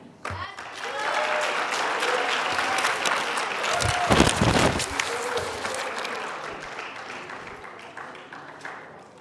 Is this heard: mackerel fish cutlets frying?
no